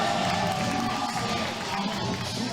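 A crowd at an NRF 2022 under-18 qualification competition cheers and shouts continuously, a dense, loud roar of many voices filling the whole stretch.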